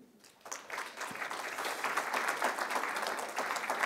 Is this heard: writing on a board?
no